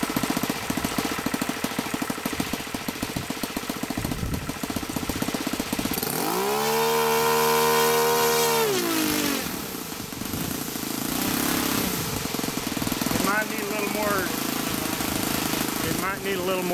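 A Saito 1.00 GK model engine buzzes loudly at close range, then climbs sharply to a high, sustained full-throttle whine for a few seconds before dropping back to a rougher, lower running note.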